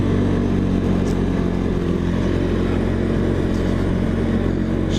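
A secondhand dirt bike's engine drones loud and close as it is ridden on dirt, with a steady rough buzz throughout and no pauses.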